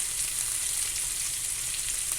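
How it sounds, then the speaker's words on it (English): Steak dropped into a hot pan sizzles and fries with a steady, loud, dense hiss throughout, close up and uninterrupted, with no talking. "You're going to take your steak and you're just going to drop it right in. That's what you want to hear. You want to hear that sizzle."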